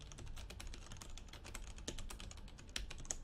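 Steady typing on a computer keyboard, quiet close key clicks in a quick irregular patter with an occasional sharper tap.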